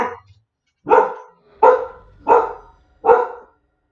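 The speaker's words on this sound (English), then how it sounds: "Dog hears the mailman outside." A dog barks at the mailman outside, four loud, close barks in an even rhythm following a softer first yelp, with no talking.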